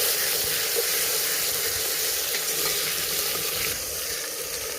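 Chopped tomatoes hit browned onions in a pan for a village-style potato and eggplant curry, giving a loud, constant frying sizzle that carries on without a break and fades only slightly toward the end.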